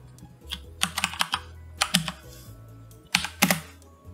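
Keys clatter on a computer keyboard in short close bursts of quick taps, with pauses between groups and a low hum underneath, no talk.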